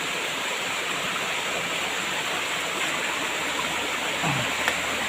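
Steady rushing water from a forest stream in Mauban, Quezon, a dense continuous flow filling the whole span, close and fairly loud, with no voices.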